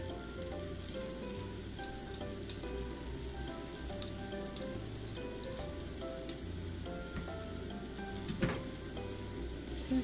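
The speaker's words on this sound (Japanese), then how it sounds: "玉ねぎの方も もう炒まったかなって思います。" Onions sautéing in a pan, a continuous soft sizzle and crackle at moderate distance, fairly quiet and even.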